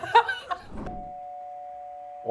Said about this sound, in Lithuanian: O, skambutis.